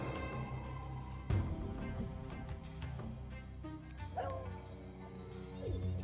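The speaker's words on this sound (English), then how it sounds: "I love that he barks now." A cartoonish dog bark sound effect from the Marvel Snap card game, short yips heard over steady game music.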